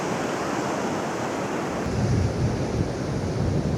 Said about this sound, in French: Regardez, ça fait des vagues. Ça fait des vagues en sens inverse.